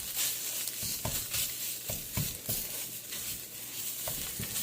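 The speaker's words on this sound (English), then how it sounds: "I'm just kind of mixing it up a bit, getting it around the plate, or getting it around the pan here" Garlic stirred in a hot pan while cooking ragu with bacon, a soft continuous sizzle with repeated scraping strokes of the utensil against the pan at an irregular pace, close and fairly quiet.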